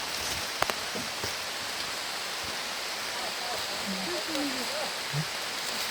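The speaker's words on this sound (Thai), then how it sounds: "ฝนตกเด้อจ้ะ" Heavy rain hisses steadily all around on a high mountainside, with a few sharp knocks and faint voices underneath.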